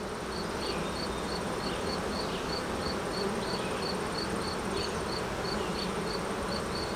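Dense, steady buzzing of many honeybees on a hive frame fills the air, constant and close, with a faint repeating high chirp of insects in the background.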